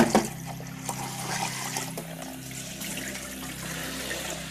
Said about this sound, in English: So I am washing the rice in tap water